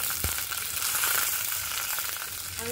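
Small whole potatoes fry in hot oil, a continuous loud sizzle with light crackling all through and no voices.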